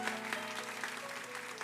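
Applause at a church service for volunteers and full-time workers: a short burst of crowd clapping, moderate and steady, over a low sustained musical drone.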